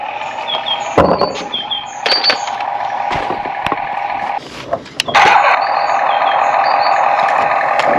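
A new walk-behind tractor engine, started from a remote-control button, keeps up a steady close rattling drone with a few sharp clunks and knocks along the way.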